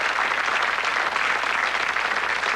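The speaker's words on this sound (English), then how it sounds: "Give him a round of applause" Steady, dense applause from a studio audience on a 1986 television quiz show, close and even for a couple of seconds.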